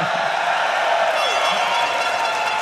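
Loud, steady roar of a large crowd cheering at a League of Legends esports stage event, the dense noise sustained and close throughout with no clear breaks.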